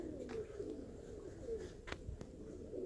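Pigeons coo steadily in soft, low repeated calls at moderate distance, a continuous outdoor flock of Baku white pigeons pecking at greens on the ground in late autumn, with a few brief sharper sounds cutting through.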